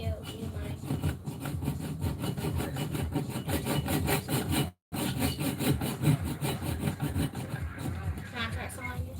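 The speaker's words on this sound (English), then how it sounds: "sawing a piece of board, hacksaw, etch a little line in it" A hacksaw cuts through a piece of board in steady back-and-forth strokes, close and fairly loud, breaking off for a brief instant midway before carrying on.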